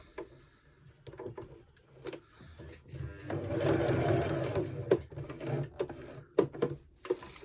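A sewing machine stitches through a bulky tiered maxi skirt, running in steady bursts that build to a longer continuous whir in the middle, with short pauses and small clicks between runs, close and fairly quiet.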